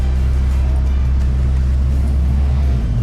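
Sportsman class race cars pull onto the main straight out of turn 11 at a USTCC race day, a steady loud engine drone with low rumbling tones and no clear pass-by peak.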